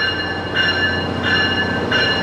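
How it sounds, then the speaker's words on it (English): A Tri-Rail shuttle train to downtown Miami rumbles steadily as it arrives at the platform, with three evenly spaced high ringing tones like a warning bell or horn over the noise. "here comes our shuttle train to take us into downtown Miami"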